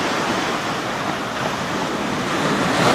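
Surf breaking steadily at the mouth of the Río Loa on the Chilean coast, a continuous loud roar of waves with wind buffeting the microphone and no voices.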